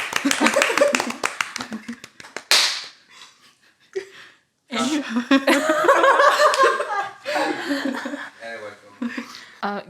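A small podcast audience claps in a quick burst of hand claps, mixed with laughter and chuckles. People talk before and after the clapping.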